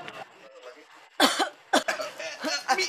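A person coughs twice in sharp, close bursts between stretches of quiet conversation, with voices continuing around the coughs.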